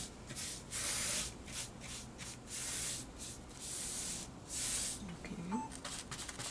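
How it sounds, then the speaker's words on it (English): A 1.5-inch paint brush strokes over a surface while painting a background, giving soft, rhythmic rubbing swishes that repeat steadily and fairly quietly, close by with no talking. "I picked up a 1 inch and a half brush. So I want to cover a large area."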